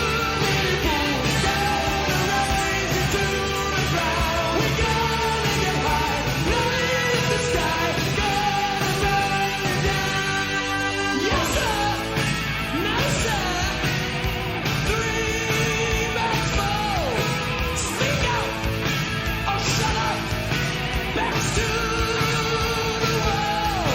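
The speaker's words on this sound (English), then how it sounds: "The guy is just singing with such power and such passion." A hard rock song plays at full volume, with powerful, passionate lead vocals over a dense band of guitars, bass, keyboards and drums throughout.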